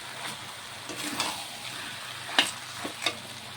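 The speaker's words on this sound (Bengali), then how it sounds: "এখন আমি জল দিয়ে দেব।" Chicken and chana dal curry sizzles steadily in a hot pan as water goes in, with a few sharp clinks and scrapes from a spoon rising above the close hiss.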